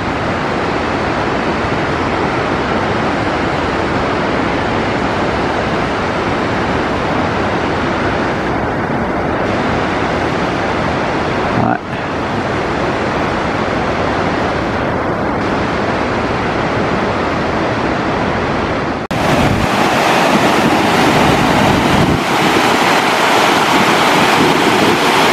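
Two waterfalls at the Cirque de Gavarnie in the Hautes-Pyrénées, at 1806 m, give a constant loud rushing roar mixed with gusts of wind buffeting the microphone.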